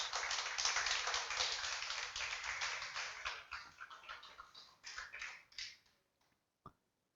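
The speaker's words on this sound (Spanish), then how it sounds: "Denle un aplauso al Señor por Jesús." Church congregation applauding together, a dense burst of hand claps that swells, then tapers into scattered claps and fades out, with a final lone clap near the end.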